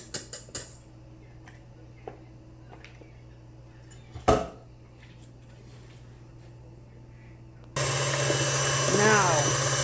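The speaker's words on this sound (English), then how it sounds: "I'm going to mix it back up underneath my blender" Electric blender whipping guava duff batter of sugar, butter and vanilla, starting loudly partway through as a steady whirring drone that runs to the end after a few clinks and knocks of kitchenware.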